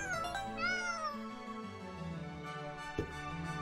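A person meows into a microphone to steer a cat video game, the voice imitating a cat with a few drawn-out, wavering meows, close and clear, without other talk.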